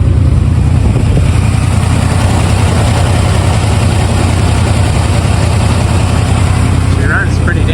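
A 1978 GMC truck engine idling steadily after sitting for 18 years, a loud continuous low rumble with a slight rough pulse, running alone without break.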